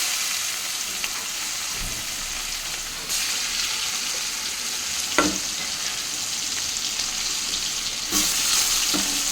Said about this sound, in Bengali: এবার পেঁয়াজ দেবো, পেঁয়াজ দিয়ে চাপাবো পটল।